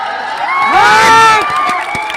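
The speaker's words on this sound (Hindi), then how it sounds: "एक एक आदमी की तालियों का शोर पटना तक जाना चाहिए, दिल्ली तक जाना चाहिए" A large crowd at a political rally in Dhaka, Bihar, cheers and whoops, with loud, ringing shouts swelling to a peak mid-way before easing back, near and dense.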